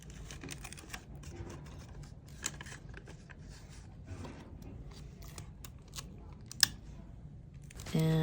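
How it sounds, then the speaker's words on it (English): Tape is pulled and pressed onto the bottom of a paper lantern, giving faint crinkles, soft ticks and rustling paper in an uneven patter, quiet and close, with a sharper rip near the end. "So here I am taping the bottom."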